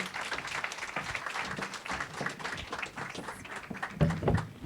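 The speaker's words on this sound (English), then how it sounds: "I want to give another big round of applause to all the startups that pitched." A startup pitch night audience claps in a fairly faint patter of many hands, quiet and even throughout.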